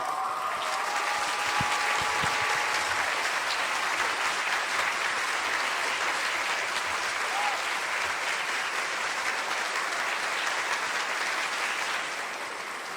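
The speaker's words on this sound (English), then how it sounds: "A round of applause for Dr. Charles Thomas Cayce." Sustained audience applause for a guest speaker at a lecture event, a dense, steady roar of many hands clapping that continues for several seconds before tapering slightly at the end.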